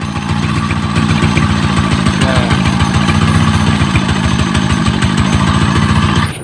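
A loud, rattling Motorstar Star-X 125 motorcycle engine with a noisy engine fault runs continuously close by, its harsh rapid clatter steady throughout before cutting off at the end.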